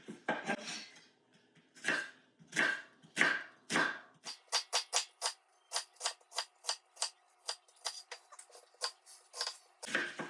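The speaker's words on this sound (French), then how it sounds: "Et donc ceux-là, je les coupe différemment, je les coupe en long." Knife slicing food lengthwise on a board, a few heavier cuts followed by a quick train of light, crisp taps close by, quiet and unaccompanied by talk.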